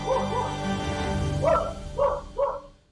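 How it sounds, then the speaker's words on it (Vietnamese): A dog barks in a series of short yips and whimpering barks, a few spaced calls toward the end, moderately close and alone with no talk. "Nghe tiếng chó sủa"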